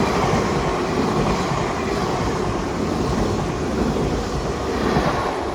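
A Great Western Railway train, unit 803-103 on a London Paddington to Penzance service, rumbles steadily through Ivybridge station, a loud, continuous broadband roar with no voices.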